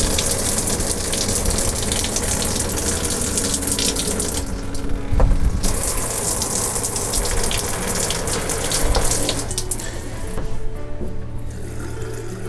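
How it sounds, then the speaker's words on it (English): Antifreeze gushing out of hot and cold household taps into a sink during RV winterization, a steady rushing water flow that continues loudly throughout with brief surges. "we're just gonna push some of that antifreeze out of the taps"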